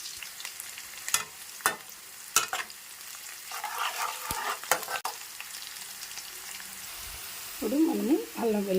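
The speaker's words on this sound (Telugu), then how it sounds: "అలాగే పచ్చిమిర్చి కూడా వేసేస్తున్నామండి. మనకి బాగా వేగిపోవాలి." Green chillies fry in a pan: a soft sizzle under sharp, scattered crackles and pops, with a voice briefly speaking near the end.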